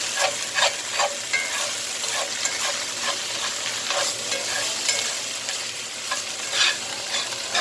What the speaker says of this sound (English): Them onions to caramelize all the way.